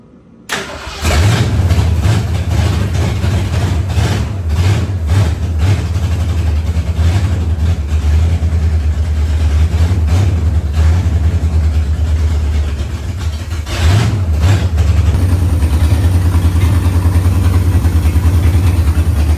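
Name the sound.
1968 Torino car engine starting, idling and revving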